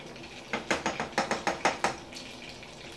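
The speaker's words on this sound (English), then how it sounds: "Let me stir this pasta so it doesn't stick" A spoon scrapes and clinks against a pot of linguini in about eight quick, even strokes, close and fairly loud with no talking.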